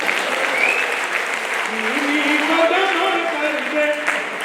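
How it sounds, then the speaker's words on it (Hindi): Audience applause at a Hindi comedy poetry gathering, a dense steady wash of clapping filling the hall with a voice heard faintly over it. "आप लोग जोरदार तालियां बजाइए"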